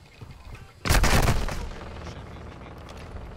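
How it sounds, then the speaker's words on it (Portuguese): A burst of rapid gunfire in the video game Call of Duty: Warzone DMZ erupts, loud and dense for about a second, then trails off into a lingering rumble and background noise. "Estão atirando em mim."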